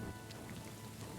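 Rain falling on the ground in the video game Kingdom Come Deliverance 2, a soft, steady patter with scattered droplet detail, faint and continuous with no voices.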